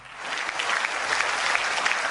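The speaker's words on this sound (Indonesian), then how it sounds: "Berikan tepuk tangan ya mereka" Steady applause from an audience at a sermon gathering, dense and continuous claps filling the whole span at moderate loudness with no talking over it.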